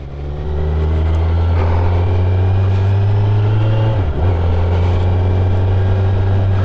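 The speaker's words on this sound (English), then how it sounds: "that first instance of shifting on a brand new bike, it just feels so smooth" A brand-new motorcycle rides along with a steady, loud engine drone held close, and a brief dip and shift in pitch as the rider changes gears partway through.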